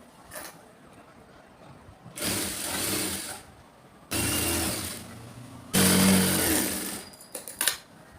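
An electric sewing machine stitches a folded half-inch hem on the border of a saree being made into a kurti, running in three steady whirring bursts of about two seconds each, separated by quiet pauses and light handling.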